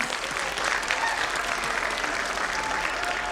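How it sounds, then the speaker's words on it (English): Teachers and audience members applaud at a play group and nursery annual day show, a dense, continuous crowd clapping that holds steady throughout, with faint voices mixed in. "So all the teachers now, you need to applaud for the parents and students."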